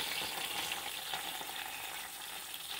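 Mackerel from Newport pier frying in a pan, a steady, dense sizzle that holds at an even, close level throughout with no voices.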